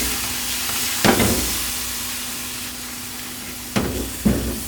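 Besan halwa sizzles steadily in a pan over low heat while liquid is added little by little, with three brief stirring clanks standing out from the constant hiss. No one speaks.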